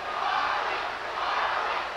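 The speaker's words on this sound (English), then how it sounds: "The crowd chants, you hear them, Ali." A boxing arena crowd chants steadily through a Larry Holmes vs Muhammad Ali heavyweight fight, a dense, sustained roar of many voices with no break for the full two seconds.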